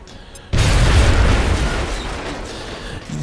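Grenade explosion in XCOM: Enemy Unknown video game: a sudden loud boom after a quiet moment, followed by a rumbling, debris-filled decay that fades slowly over a few seconds.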